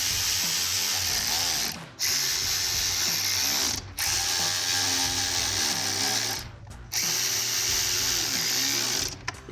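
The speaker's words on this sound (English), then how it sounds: "Take our ratchet," Repeated rapid clicking of a ratchet snugging up 5/16 side mirror screws on a Ford F-150, close and loud in several bursts separated by short pauses.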